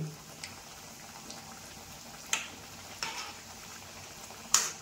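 Kajjaya, a traditional sweet, fries in hot oil in a home kitchen with a steady, soft sizzle. A few sharp utensil clinks against the pan break through now and then, close by.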